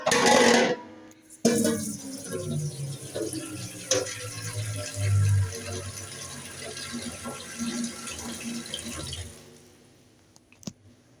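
Water runs steadily from a tap into two metal pots stuck together for several seconds, splashing and hollow-sounding, then stops.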